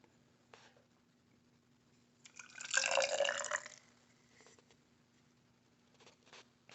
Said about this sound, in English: I'm going to pour that warm water into the test tube and see what happens